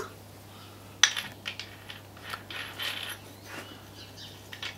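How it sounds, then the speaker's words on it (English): A 115mm grinding disc fitted onto an unplugged Hitachi G12SS angle grinder, a sharp metallic click followed by lighter ratcheting and rattling mechanical sounds, close by over a steady low hum. "This is putting the 115mm grinding disc on."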